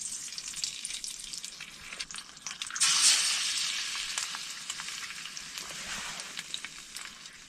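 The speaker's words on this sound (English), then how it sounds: "Then, a hearty breakfast of bacon and eggs, cooked on the trusty stove." Bacon and eggs sizzling in a pan on a stove for breakfast, a close, steady crackling fry that swells louder for a moment before settling back to a constant sizzle.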